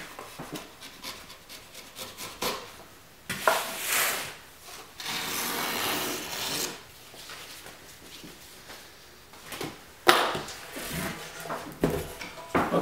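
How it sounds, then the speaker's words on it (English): Knife or blade cutting excess canvas along the edge of a wooden stretcher frame during an encaustic painting workshop, heard as bursts of close, dry scraping and rasping strokes separated by quieter pauses, with no talk. "now I'm going to cut the excess canvas off. And I'm just using the wood stretcher as my guide"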